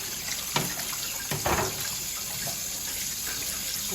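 Tap water runs steadily into a sink while pork intestines are rinsed clean for a spicy Thai salad, with a couple of louder splashes near the start and middle and a constant hiss throughout.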